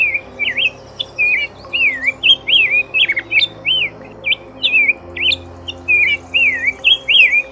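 A rose-breasted grosbeak sings clear, warbling phrases in quick succession, loud and close over a faint low hum, with short pauses between bursts.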